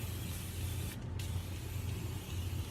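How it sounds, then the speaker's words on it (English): A steady can of brake cleaner hisses onto a Perkins 152 cylinder head, the spray running continuously over a low hum in the shop with no pauses or talk. "So we're gonna brake clean off the head and clean it up before we put it on."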